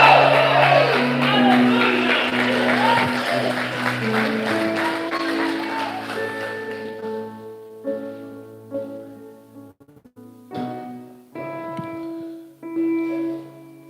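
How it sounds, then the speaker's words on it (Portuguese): A church congregation raises loud shouts of joy at a revival service, a dense crowd roar that thins out into scattered voices and whoops with a few separate bursts near the end. "fica de pé, dá um grito de júbilo a Ele"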